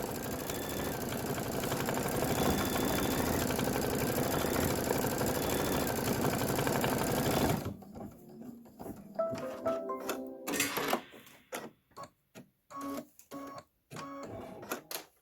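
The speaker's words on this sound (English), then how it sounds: "Go ahead and stitch it." Embroidery machine stitching a pillow block, a loud continuous mechanical drone with rapid needle chatter for several seconds, followed by quieter handling sounds and clicks.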